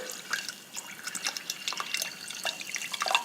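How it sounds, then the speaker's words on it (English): Water trickles and drips into a vase filled with red gravel, a light, irregular splashing and dribbling that stays fairly close and soft, with no voices over it. "Let's add some water."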